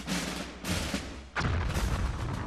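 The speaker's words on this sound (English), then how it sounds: "HARP's 7-inch guns fired up to 62 miles." Booming blasts from large HARP artillery guns with 7-inch barrels, two or three heavy shots with rumbling decay, loud and close.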